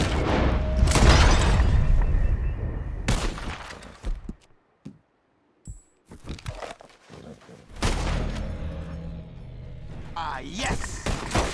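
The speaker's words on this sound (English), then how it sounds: "The one who shoots the most bottles wins." Revolver shots at glass bottles in a shooting competition in the western video game Red Dead Redemption: several sharp, booming reports with shattering thuds, separated by near-silent gaps, while voices speak around them.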